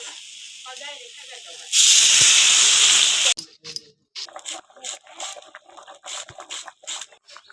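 A loud burst of hissing sizzle as water hits a hot pan of fried potatoes and eggplant for fish curry, lasting under two seconds, then a quieter stretch of bubbling with a voice talking.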